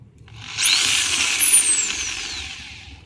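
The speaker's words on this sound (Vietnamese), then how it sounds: "Đây là bật qua chế độ khoan thường này." A power drill switched to normal drilling mode spins up with a rising whine that swells, holds loud and close for a couple of seconds, then winds down.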